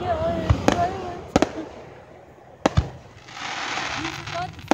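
Fireworks and firecrackers bursting outdoors in Anderson, California, with four sharp loud bangs at irregular intervals, some in quick pairs, and a fizzing crackle between them under distant voices and background chatter.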